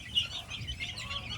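Two-week-old chicks peep and cheep in a busy overlapping chorus while being moved into a mini range after fowl pox vaccination, a steady high twittering with soft clucks, close by and moderately quiet.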